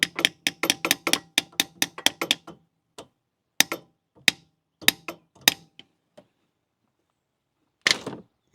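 A rear main seal being hammered into a 2007 Nissan Maxima 3.5, sharp metallic taps struck close in a rapid run of about a dozen, then slower isolated blows with gaps, and a final short rattling burst.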